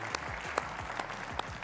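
Applause from a crowd at an esports world cup closing ceremony watch party, a steady wash of clapping that runs throughout, with a few sharper individual claps standing out near the front.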